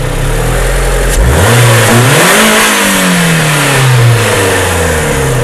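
A car engine runs loudly up close, its pitch rising and falling through several revs over a steady idle, with no talking.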